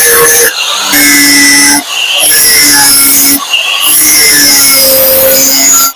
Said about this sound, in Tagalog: titirahin muna natin ito ng grinder para kuminis yung gilid.